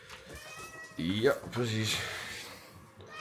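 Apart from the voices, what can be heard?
cats meowing at feeding time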